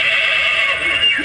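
A goat bleats in a steady, drawn-out cry that fills the short moment, set against a noisy outdoor background.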